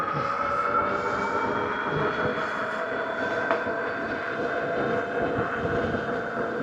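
A Mokwheel Basalt ST 2.0 e-bike running on throttle alone above 20 mph gives a steady, close motor whine with broad wind and road rush, continuous throughout with no talk.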